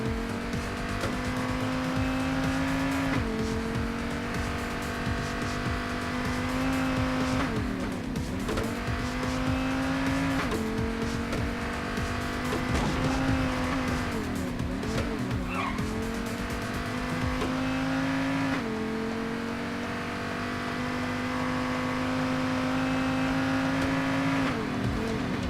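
A car in the Payday 2 video game drives steadily, its engine droning and shifting pitch through repeated gear changes, with tire squeals and skids along the way. The engine is loud and continuous, and no voices are heard.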